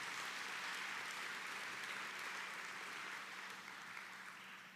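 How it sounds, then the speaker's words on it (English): An audience at a university fall convocation, FVSU 2021, breaks into sustained applause, a dense, even wash of clapping from a large crowd that holds steady and then begins to taper slightly. "Let's give our partners a great round of applause."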